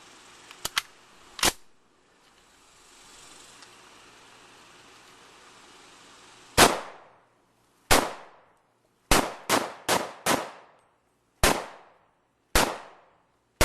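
An SKS rifle fires brass-cased, boxer-primed ammunition, a few quick cracks at the start and then eight loud, sharp shots at irregular intervals, each followed by a short ringing decay, with quiet stretches between.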